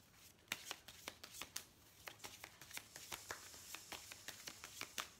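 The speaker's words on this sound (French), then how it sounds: "Je vais pousser un peu les cartes" Tarot cards pushed and slid across a table, a soft run of quick papery taps and shuffles, close and quiet, with no voice over them.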